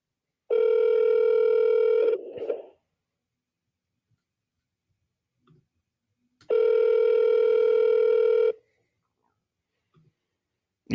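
A telephone call ringing out while waiting to be answered: two long, loud electronic ring tones about four seconds apart, each lasting roughly two seconds, with near silence between them.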